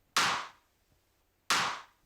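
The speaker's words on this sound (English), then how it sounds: "so it gave me this kind of like dirty drum" Two sharp, gritty clap hits about a second and a half apart, each bursting bright and harsh then decaying quickly, with silence between.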